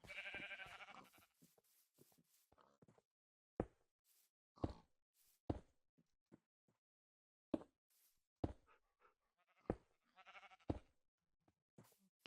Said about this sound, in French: Les moutons, hein.